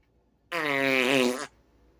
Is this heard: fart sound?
yes